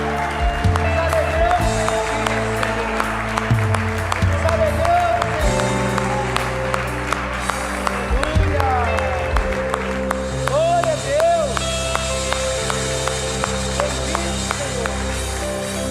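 In a church service, a congregation claps along to loud worship music and singing. Rhythmic clapping from many people runs steadily under the band and voices for over fifteen seconds.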